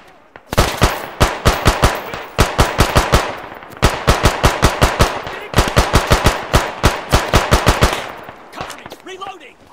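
Rapid bursts of automatic gunfire in the military shooter Arma 3, loud and close, coming in several sustained strings of shots with brief pauses, with a voice shouting in between.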